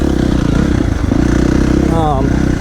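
A KTM 350 XCF four-stroke dirt bike engine braking downhill gives a steady, close, burbling thrum that runs throughout the clip, with a brief higher whine near the end.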